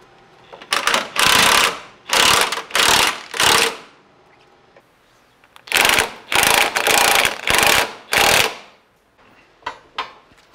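A ratchet wrench tightens suspension bolts with rubber bushings on an off-road vehicle, up close in two runs of rapid clicking bursts, each a few seconds long, separated by a quiet pause, with a couple of faint single clicks at the end.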